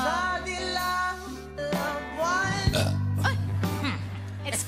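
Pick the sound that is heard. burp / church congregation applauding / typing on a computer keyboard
burp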